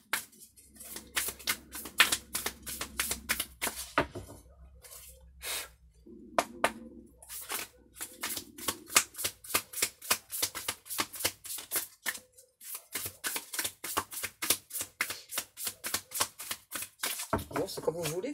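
Tarot cards being shuffled and handled, a rapid run of crisp riffling flicks and slaps in bursts with brief pauses, close by, while someone talks in French at intervals.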